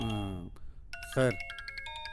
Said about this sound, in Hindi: फोन आया है उसका